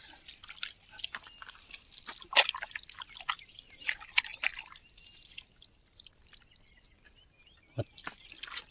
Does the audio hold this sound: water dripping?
yes